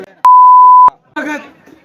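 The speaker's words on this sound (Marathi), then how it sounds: "बीप लावा लागते" A single loud, pure censor beep lasts about two-thirds of a second, cutting over speech, and a voice talks briefly just before and after it.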